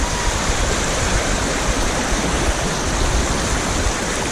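Storm water rushes loudly through a swollen creek in a dense, constant roar that stays steady throughout.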